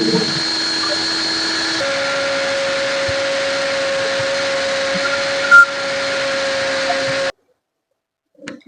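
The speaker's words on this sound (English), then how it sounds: "I'll put this quantity in the blender. Then I'll go ahead and blend them." A blender blending ingredients for a large family meal in Anambra State, Nigeria: a loud, steady motor whine with a shift in pitch partway through, running continuously and then cutting off to near silence.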